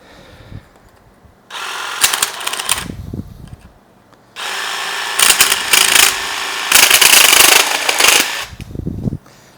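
Metal drywall corner beading is cut with a power tool in place of tin snips, giving loud, harsh grinding bursts of a few seconds each, broken by short pauses and lighter handling clatter.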